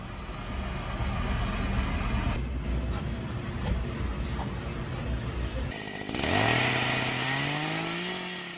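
Handheld chainsaws trimming rough, cracked butt ends of logs in a large sawmill yard, a steady loud engine drone with a sharp rising rev near the end as the saw bites in, heavy machinery rumbling underneath.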